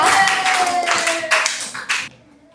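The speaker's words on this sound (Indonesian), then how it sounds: "Tepuk tangannya buat Mbak Yasmin dan Mas Gosi." Classroom clapping after a student presentation, a short burst of many hands with uneven surges that fades out quickly, with a faint voice and a held tone running underneath.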